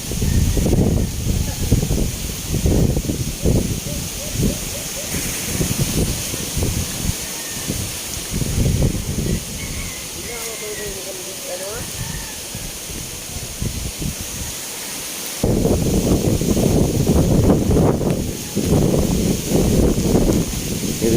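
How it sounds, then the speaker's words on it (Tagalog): Strong wind from Typhoon Paeng blows through a rural province with banana plants, producing loud, buffeting gusts that rise and fall, ease off in the middle and surge again, with a brief voice heard during the lull. "Hanggang niyan makusog pa manggihapon ang hangin."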